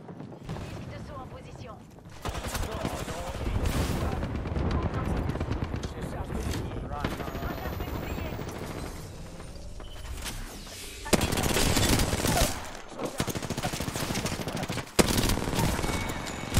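Gunfire from an M1 rifle in a shooter video game, loud sustained bursts of shots and mechanical clatter with sharp single cracks near the end, while players talk throughout.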